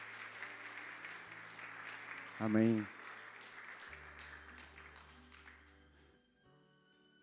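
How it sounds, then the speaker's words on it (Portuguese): Church congregation applauding at a Wednesday service, steady clapping spread through the room, with a brief spoken exclamation from one voice partway through and quiet sustained keyboard chords beneath. "Vamos dar uma salva de palmas."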